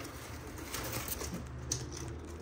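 A pair of Bukhara pigeons in a cage give soft, low coos against a faint background hiss, quiet and close, with a little rustling.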